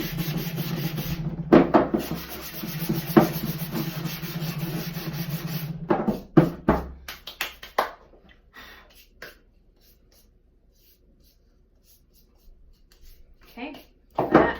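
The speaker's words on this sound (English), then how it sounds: "You can also sand your block a little, I think it just makes it that much smoother." Hand sanding a wooden block for a succulent hanging shelf: steady back-and-forth rasping strokes, close and fairly loud for several seconds, then sporadic rubs fading into near silence before a short final scrape.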